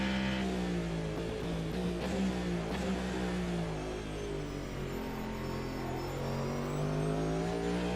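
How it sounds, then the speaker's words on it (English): A race car engine in the video game Automobilista 2, heard from outside the car, drones steadily with shifting harmonic whine, revving slightly up and down throughout, close and loud, no voices. "Because I want to hear the exterior sound of the car."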